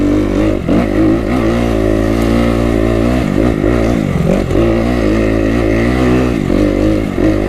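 A Kawasaki KX250 dirt bike engine revs loudly and close, rising and dipping in pitch as it pulls through the gears with a strong continuous drone.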